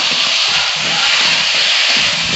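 Raw potatoes tipped into hot masala in a pan for a tangra fish curry, setting off a loud, steady, close sizzle that hisses evenly without a break.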